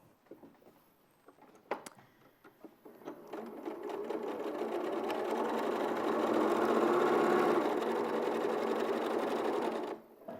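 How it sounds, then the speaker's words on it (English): Scattered clicks and handling noise give way to a sewing machine joining fabric pieces, a steady close whir that holds for several seconds before stopping abruptly. "So I'll just sew these together."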